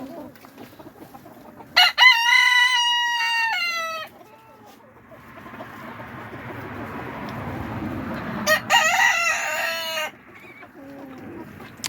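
A rooster crows loudly twice, several seconds apart, with softer clucking and rustling from chickens in a coop between, close by and without talk.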